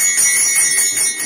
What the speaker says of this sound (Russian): а это уже звук бубенца.